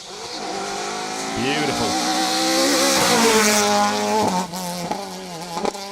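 A Toyota Starlet rally car tears along a forest stage at the Carryduff Forklift Down Rally 2023, its engine climbing and dropping in pitch through hard revs and gear changes, loud and close. A voice speaks briefly.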